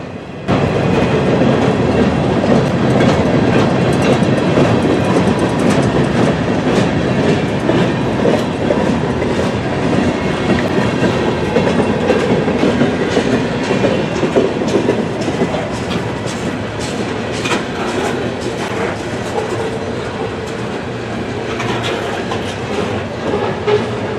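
Freight cars of a train led by Southern 8099 roll steadily past at close range through Columbus, with continuous rumbling and rhythmic clickety-clack of wheels over rail joints, loud throughout.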